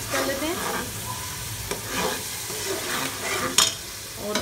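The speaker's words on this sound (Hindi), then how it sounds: "ये इतना जो है इसमें डाल के अब इसको भी अच्छे तरीके से हम मिक्स कर लेते हैं" Homemade ground turmeric stirred into aloo methi, potatoes and fenugreek leaves, frying in a pan, with steady sizzling and repeated scraping strokes of a spoon, plus a few sharper clinks against the pan.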